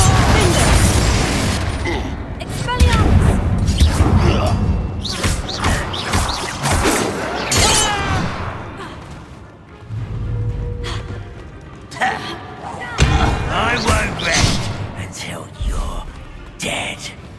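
Fiery Confringo spell blasts boom and crash repeatedly in Hogwarts Legacy combat, with dense explosive impacts and thuds filling the scene. They play loud and close under a voice that keeps shouting.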